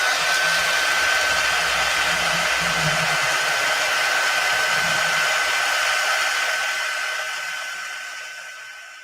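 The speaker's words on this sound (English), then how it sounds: "let's heat set this" A heat tool blows continuously over a stamped craft card project as the ink is heat set, a steady loud whooshing hum with a faint whine that holds throughout and tapers slightly at the end.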